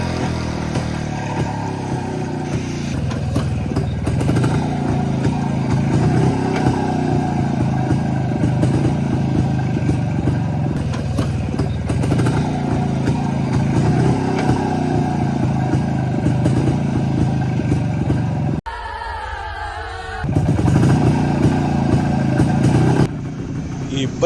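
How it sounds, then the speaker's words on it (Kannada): A vintage Jawa 353 motorcycle engine runs steadily and loud, a continuous two-stroke drone with mechanical clatter, briefly dropping away near the twentieth second before resuming. "ಆದ್ರೂ ಒಂದೇ ಕಿಕ್ಕಲ್ಲಿ ಸ್ಟಾರ್ಟ್ ಆಗ್ಬಿಡ್ತಾನೆ"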